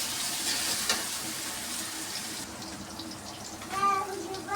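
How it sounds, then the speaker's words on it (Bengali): Garlic paste frying with onions in a pan for biryani, a steady soft sizzle close by that drops lower partway through, with faint clinks and a voice talking over it. "পেঁয়াজের সাথে রসুন বাটাটাকেও ভেজে নেব ভালোভাবে"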